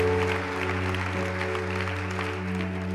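A church congregation applauds the Lord, a soft wash of scattered clapping beneath a steady sustained organ or keyboard tone that runs throughout.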